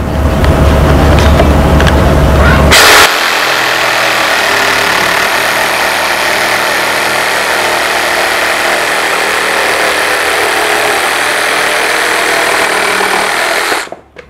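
A Bosch GSA 18V-32 cordless sabre saw cuts through 4x2 timber with a loud, close, continuous buzzing drone that runs for several seconds before cutting off abruptly at the end.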